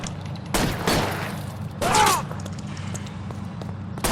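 Gunfire in L.A. Noire, a few loud broadband shots in quick succession standing out over a busy noisy battle background, with a ringing bright tone after one blast.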